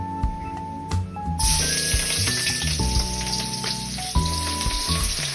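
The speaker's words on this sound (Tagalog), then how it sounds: "So ngayon guys, ilalagay na natin ang sibuyas." Onion dropped into hot cooking oil for a Filipino dish, a steady close frying sizzle with a brief crackling burst near the start, over faint background music tones.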